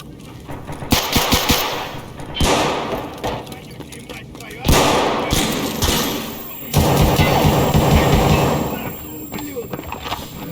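Gunfire in Escape from Tarkov comes in several loud bursts of rapid automatic fire and heavy thuds, split by short pauses. A person's voice is heard over the shooting at times.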